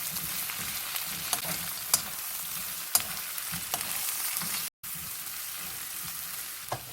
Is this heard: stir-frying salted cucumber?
yes